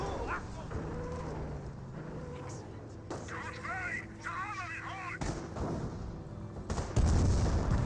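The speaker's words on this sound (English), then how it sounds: "Nebel Warfare firing away." Nebelwerfer rocket artillery fires in the World War II strategy game Company of Heroes, with rising rocket whines and booming impacts mixed into battle noise, while a voice talks over it.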